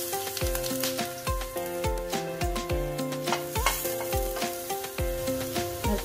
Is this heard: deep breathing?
no